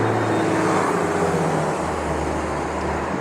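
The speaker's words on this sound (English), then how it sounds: "the bus was passing" A bus rumbles along a street in Salem, a loud, close, continuous engine and road roar that eases slightly as it moves on, with no one talking.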